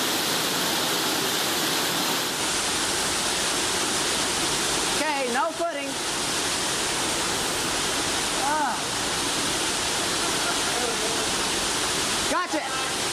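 A waterfall roars as a dense, loud, continuous rush of water, with a few short spoken exchanges breaking in over it.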